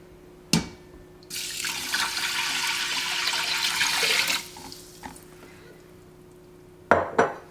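Water is poured from a cup into an Instant Pot holding steel cut oats and salt. It lands as a steady, close splashing rush for about three seconds, followed by a few light clinks near the end.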